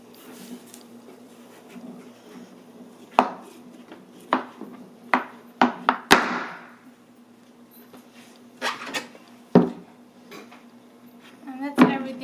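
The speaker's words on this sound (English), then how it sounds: "Now we're just gonna cut off the part of the pumpkin" A knife cuts into a fresh pumpkin, giving a series of sharp cutting and knocking strikes against a board at irregular intervals, close and fairly loud, with quieter gaps of faint movement between them.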